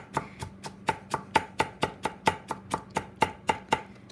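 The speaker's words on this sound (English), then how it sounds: "You can really smell it as I'm chopping this." A knife chops celery on a cutting board in a kitchen, about seventeen crisp, evenly spaced strikes in a fast, steady rhythm, close and clear with no talking.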